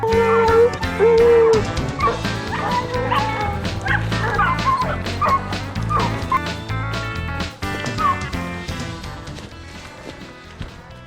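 Hunting hounds bark and bay on a bear trail in Virginia, a dense, loud chorus of overlapping barks, yips and whines from several dogs running continuously close by.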